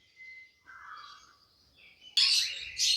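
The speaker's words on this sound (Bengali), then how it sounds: "এখানে যে ফরপাস পাখিটা দেখতেছেন" Small Forpus parrotlets give thin, high chirps and trills, with a louder burst of sharp chattering calls near the end, close by.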